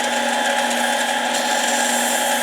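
A power tool chamfers and deburrs a metal part with a steady, loud, high-pitched whine and grinding that holds constant for the whole short stretch, with no voices.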